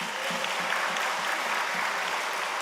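A church congregation claps steadily during a Sunday worship service, a dense even wash of applause throughout with no pauses, moderately loud and filling the sanctuary.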